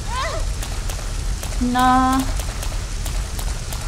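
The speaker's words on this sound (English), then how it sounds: "this rain should, like, technically put out the flame" Steady rain hisses across the whole scene in the Resident Evil Code Veronica X game, with a brief tonal chime sounding partway through and a voice saying a single short word near the start.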